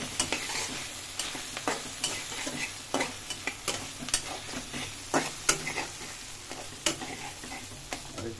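Raw jackfruit fries in a pan as coriander is stirred in, a soft steady sizzle broken by repeated sharp scrapes and taps of the spoon against the pan at an uneven rhythm, close by with no talking.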